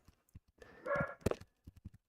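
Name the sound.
dog barking downstairs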